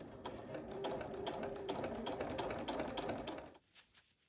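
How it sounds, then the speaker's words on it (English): A sewing machine stitches a diagonal quilting line through a quilt in quick, steady mechanical rapping for about three and a half seconds, then stops, leaving a few faint clicks. "roll it together so that the middle diagonal line is the first line that I'm going to sew"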